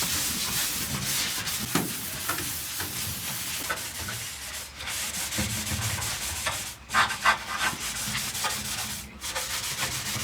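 A body panel of a Series Land Rover is sanded by hand during a restoration, a close, continuous rasping rub in repeated strokes with a few brief pauses and no talk.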